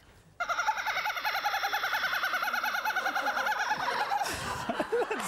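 A person imitates a kookaburra's call with the voice, a loud, continuous run of rapid, rising laughing cackles that starts abruptly and carries on for several seconds, breaking into a rougher, breathy burst near the end.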